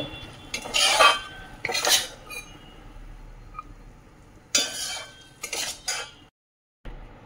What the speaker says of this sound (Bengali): একটা বাটির মধ্যে তুলে নেব।